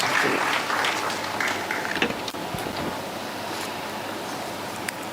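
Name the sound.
applause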